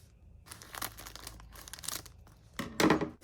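Heat and Bond Ultra Hold packaging being cut open, with close crinkling and tearing of plastic in short irregular bursts and a louder rustle at the end.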